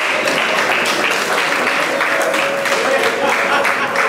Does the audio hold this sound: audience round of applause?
yes